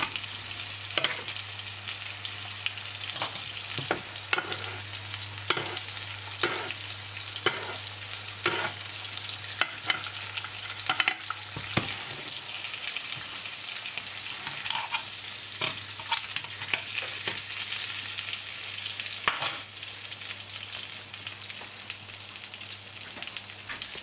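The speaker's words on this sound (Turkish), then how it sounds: "Yağdan sürekli etimizin üzerine mantoluyoruz arkadaşlar, gördüğünüz gibi, ve çevirerek etimizi güzel bir renk alana kadar kızartıyoruz." Beef tenderloin frying in a pan while hot oil is spooned over it, a steady close sizzle with crackling pops and scraping throughout, no voices.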